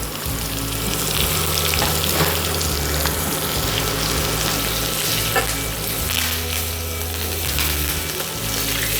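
Steak sizzles and spits loudly in a pan of butter with garlic cloves and lemon thyme, a dense constant frying crackle close up that lasts throughout with low cooking rumble beneath and no speech.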